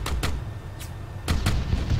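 Several sharp gunshots crack nearby during a close-quarters exchange at a doorway, coming in two pairs, one single shot and a later pair, over a steady low rumble.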